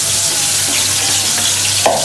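Onion paste with ginger-garlic paste frying in hot oil, a steady close sizzle that runs without a break, with a short louder spatter near the end.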